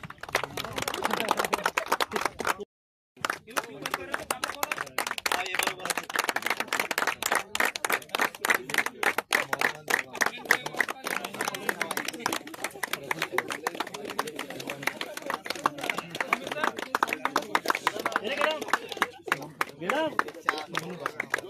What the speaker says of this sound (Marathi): टाळ्या वाजवायची पद्धत आहे.